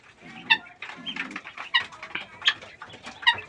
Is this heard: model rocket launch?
no